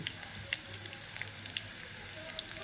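Chopped onion frying in a pan as the base for a prawn curry, giving a steady, close sizzle with scattered crisp pops and no talking.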